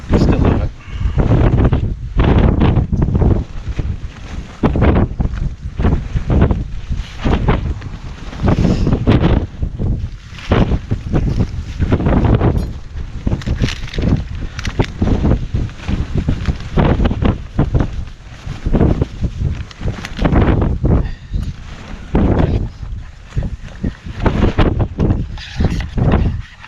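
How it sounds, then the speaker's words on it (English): Strong gusts of wind buffet a tent at a wild camp on Ros Castle, a continuous loud roar that rises and falls with flapping and rustling, close to the microphone and without talk. "I know it's windy as out"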